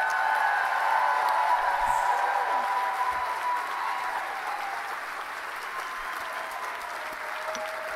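A large conference audience applauds loudly, a dense wash of clapping that holds steady and eases slightly toward the end, with some crowd murmur.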